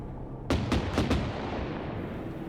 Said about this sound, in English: What the heck are they shooting at?